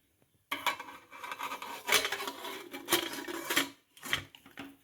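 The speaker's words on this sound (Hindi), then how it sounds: "अब कुकर का ढक्कन लगा देंगे" Metal pressure cooker lid being fitted onto the cooker holding water and a bowl of beetroot and guava, a run of scraping, clinking and rubbing metal sounds close by with no talking.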